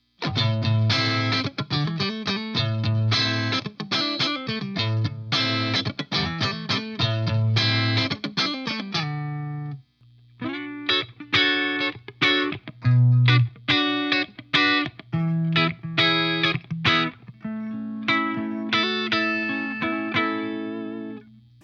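Distorted electric guitar through the rhythm channel of a Mesa Boogie Quad preamp plays chugging, punchy riffs with chords and palm-muted notes, loud and close, pausing briefly midway before resuming.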